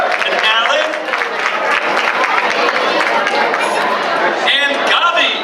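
An audience at a Jewish family festival concert applauds in a sustained wash of clapping mixed with crowd chatter, loud and close.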